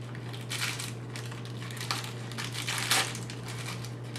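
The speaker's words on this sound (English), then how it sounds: "I'm just going to open up my little package" Plastic packaging around a piece of fish is pulled open by hand, giving soft crinkling and crushing rustles in short bursts, close and fairly quiet over a steady low hum.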